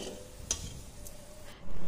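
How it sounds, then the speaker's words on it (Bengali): Cardamom, cinnamon and cloves stirred in warm oil in a pan, with a soft scraping sizzle, a faint clink and a louder scrape near the end. "এরপর এটা একটু নাড়িয়ে নিলাম।"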